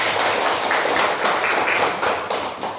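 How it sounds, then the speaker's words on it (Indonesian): Schoolchildren in an Indonesian classroom applauding together, a dense, close burst of clapping holding steady for a few seconds before tapering off. "Tepuk tangan untuk kita semua."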